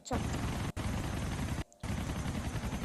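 Rapid, continuous gunfire in GTA IV, loud and dense, with two brief breaks in the shooting.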